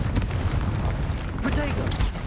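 Confringo fire spell blasts in Hogwarts Legacy: a few sharp booming bursts, one near the start and two more later, over dense combat noise.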